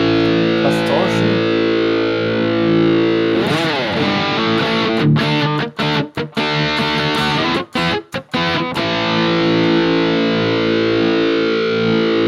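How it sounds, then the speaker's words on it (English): An electric guitar played through a distortion pedal model on a Hotone Ampero II Stage multi-effects unit, with loud saturated sustained chords and notes, brief choppy muted gaps in the middle, then ringing out. "Distortion."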